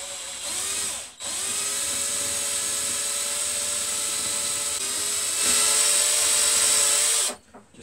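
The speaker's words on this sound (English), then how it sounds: "So I'm just going to drill that out" An electric drill boring out a wooden dowel in a small shed workshop, a steady close high whine that dips briefly near the start, runs on evenly, then cuts off.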